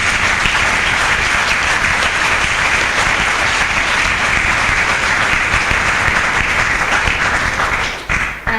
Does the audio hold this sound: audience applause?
yes